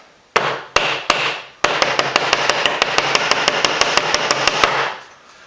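Glitter being shaken and tapped off a craft card: a few sharp taps, then a steady rapid run of close, loud knocks and rattles before stopping.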